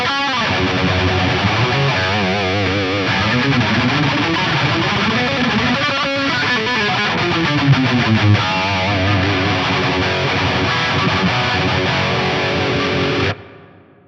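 An electric guitar with DiMarzio pickups plays a heavily distorted late-80s rock tone, loud and sustained, with riffing and bends, before cutting off abruptly near the end.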